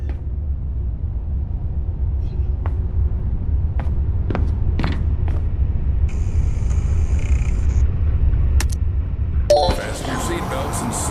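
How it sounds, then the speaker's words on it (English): A zoo train in the Zoochosis video game starts up and rolls along, with a steady low rumble and scattered clinks and pings, a sustained tone midway, and a louder noisy burst near the end. "select the giraffe enclosure on the control panel and start the train"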